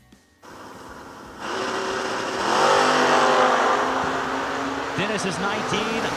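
A Camaro and a Malibu drag race down the Kil-Kare track. After a quiet start the engines break into a loud, rising roar that holds and climbs, then shifts pitch in quick sweeps near the end.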